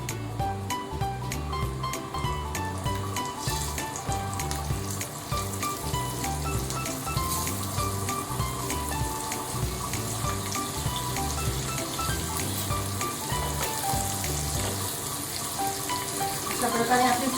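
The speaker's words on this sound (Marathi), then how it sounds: "त्याच्यामध्ये आपण आता ही वांगी सोडणार आहोत" Brinjals sizzling in oil spiced with Kashmiri chilli powder for vangyacha bharit, a steady loud frying hiss throughout with a musical backing bed over it.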